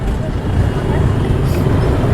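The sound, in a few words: city traffic in Karachi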